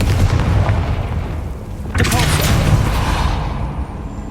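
A fire-blast spell explosion in Hogwarts Legacy on PS5, erupting as a single broad boom about two seconds in over constant game noise, with a rumbling tail that lingers afterward.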